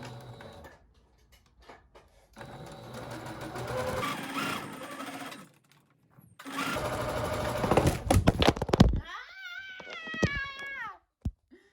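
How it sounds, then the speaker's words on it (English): A sewing machine back stitching fabric for a scarf or hair accessory, in a few close bursts of rapid mechanical whirring separated by pauses, with a cat meowing near the end. "I'm gonna back stitch here too."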